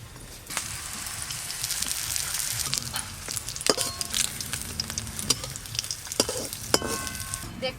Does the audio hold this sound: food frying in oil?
yes